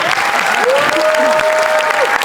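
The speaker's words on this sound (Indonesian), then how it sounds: "Kasih tepuk tangan dong untuk semuanya." Studio audience clapping for everyone on stage at a televised anniversary show, lively applause with a sustained tonal whistle or cheer running over it through most of the stretch.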